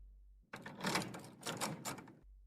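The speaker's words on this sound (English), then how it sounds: "walking over to the door and locking it" A door is locked up close: a quick run of rattling clicks and solid wooden thunks lasting under two seconds, set against a faint low hum before and after.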